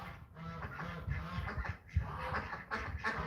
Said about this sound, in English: You can probably hear all that quacking